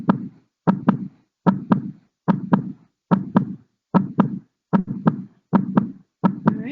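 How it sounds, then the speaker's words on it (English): An imported heartbeat sound effect thumps in a regular lub-dub rhythm, about nine beats at an even pace, loud, close and clean against silence. "I want to import the heartbeat from outside."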